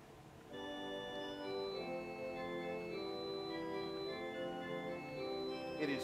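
A 1969 M.P. Moeller pipe organ plays its Sesquialtera stop in a residence, sustaining bright reedy chords that shift through several harmonies, steady and fairly loud until a brief noise at the end.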